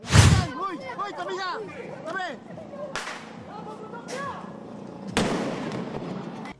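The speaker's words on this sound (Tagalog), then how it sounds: "kaliwat kanan din ang pagpapaputok sa kalsada ng ilang kabataan sa pagsalubong sa Pasko" Sharp firecracker bangs crack out in a street in Tondo, Manila, on Christmas, a loud burst at the start and more later, with voices and street noise between the explosions.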